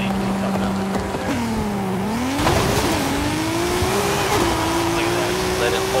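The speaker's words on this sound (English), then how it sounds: "this car is just moving so, so, so good with this anti-lag system" A Toyota Supra drag car with an anti-lag system accelerates hard in Forza Horizon 5, its engine note rising steadily through the gears with crackling anti-lag pops, loud and continuous throughout.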